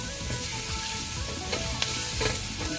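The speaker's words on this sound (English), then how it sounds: "I've taken a nice vessel and I've added oil. I'm going to add the garlic" Garlic frying in oil in a cooking vessel for cheesy pasta, a steady dense sizzle and crackle throughout with faint stirring clatters, close and moderately loud with no talk.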